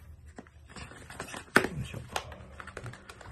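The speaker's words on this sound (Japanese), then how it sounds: "今外のね、ビニールを取って、開封をしていきたいと思います。" Plastic wrap comes off the packaging of a new Hollyland Lark M1 wireless microphone, with close, quiet crinkling, tapping and rustling and one sharper tearing snap partway through.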